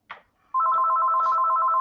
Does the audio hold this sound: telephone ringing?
yes